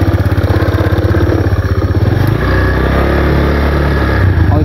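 A motorcycle engine idles loudly and close by with a steady, pulsing rumble that shifts to a smoother, higher drone partway through.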